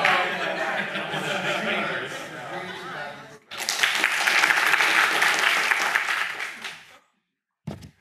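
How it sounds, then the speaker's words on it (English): An audience at intern lightning talks breaks into clapping, first under lingering speech, then a fuller burst of applause that fades to silence before a brief sound at the end. "then we just clap"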